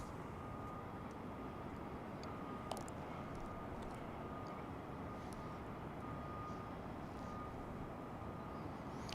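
A jet airliner on approach to Dallas/Fort Worth International Airport, a steady broadband engine roar holding at constant level for the whole stretch, with no talk.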